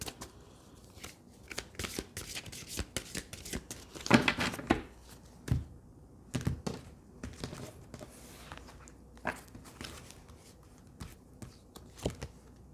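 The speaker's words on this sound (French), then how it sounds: "je vais prendre une deuxième carte" Tarot cards shuffled and drawn, a run of quick papery riffles and flicks with a few sharper slaps near the middle, close and fairly soft with no voices.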